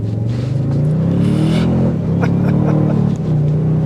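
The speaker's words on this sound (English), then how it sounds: "A nice exhaust note that filters in." Toyota Sequoia TRD Pro SUV rated at 583 pound-feet of torque, its engine and exhaust note rising in pitch as it accelerates from a stop, heard steadily from inside the cabin with a brief dip midway.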